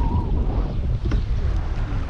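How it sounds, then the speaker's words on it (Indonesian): Strong wind buffets a kayak on Kenyir Lake, a dense, constant rumbling rush of gusts against the microphone with faint water splashing underneath. "Sebenarnya ni angin sangat kuat ni"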